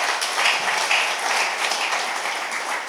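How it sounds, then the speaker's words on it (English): A church audience applauds in a continuous, dense wash of clapping that stays steady and fairly loud for the whole stretch, with no voices over it. "A big round of applause, please,"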